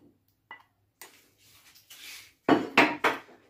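A tajine pot is brought out and set down in a home kitchen while making a minced-meat tajine with tomatoes and eggs, giving a few close clinks and knocks of ceramic and cookware, loudest in a burst of clatter near the end.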